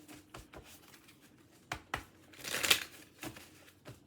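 Cards are shuffled quietly up close, a few soft riffling bursts and taps with one louder ruffle in the middle.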